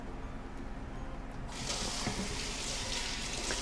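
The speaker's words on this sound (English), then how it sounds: "give it a good little cold water rinse" Fish fillets being rinsed under a cold running kitchen tap, a steady hiss of flowing water that grows noticeably louder and fuller partway through as the stream strikes the fish and sink.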